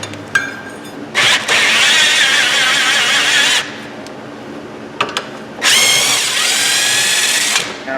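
Two loud bursts of a power tool removing a bolt from a Hyundai Elantra's rear brake, each a few seconds long with a rattling whine, separated by a short pause with light clatter.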